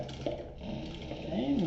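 A sewing machine stitches pieces of leather together for a laptop bag, giving a steady mechanical whir with faint rhythmic clatter at moderate level. A voice-like murmur runs underneath.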